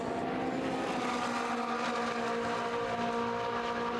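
Race cars at Daytona in a Coppa Shell race roar by at full throttle, a dense, loud, continuous engine howl with strong tonal whine and no talk over it.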